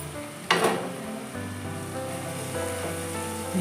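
Boiled chicken lands in a pan of cooked spice masala with a sudden loud sizzle, settling into a steady frying hiss with faint stirring scrapes.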